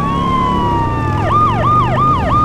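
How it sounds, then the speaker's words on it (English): LCPD police car siren in GTA San Andreas with an underground mod, starting with a long wailing tone that switches into a fast repeating yelp cycling about every third of a second, loud and close, with engine rumble beneath. "We got LCPD police car, Liberty City."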